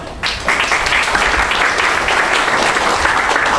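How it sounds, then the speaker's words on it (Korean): An audience at a Korean tuition policy debate forum breaks into sustained applause to welcome arriving speakers, a dense, steady clapping that fills the room with no talk. "환영의 박수를 부탁드립니다."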